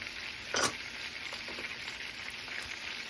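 Garlic sizzles in a lemon butter sauce reducing in a pan for seared cod, a steady faint frying hiss with one sharper clatter early on, close by and without speech.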